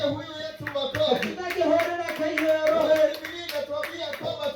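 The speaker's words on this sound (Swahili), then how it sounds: "Tumpigie huyu Yesu makofi" A church congregation claps for Jesus in a steady rhythm of sharp, closely spaced hand claps. Voices sing or call out over the clapping.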